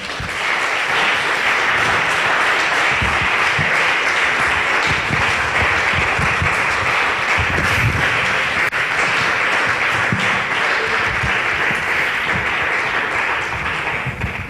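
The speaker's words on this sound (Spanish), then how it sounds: "Dale un aplauso al Señor." A church congregation claps loudly and continuously for God during a Spanish-language evangelical service, a dense, sustained wall of many hands that stays strong from start to finish.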